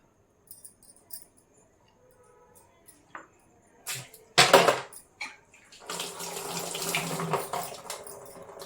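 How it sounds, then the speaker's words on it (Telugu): Water being poured into a pan of pond fish pieces for a fish curry, a steady splashing pour building from about six seconds after a few brief clatters, close and alone without talk. "ఇప్పుడు దీనిలో కొంచెం ఇంకా సరిపడా వాటర్ పోసుకోవాలి ములిగే వరకు"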